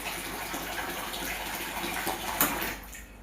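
Water pours steadily into a pot of rice for cooking close by, a continuous splashing gush that ends after a few seconds.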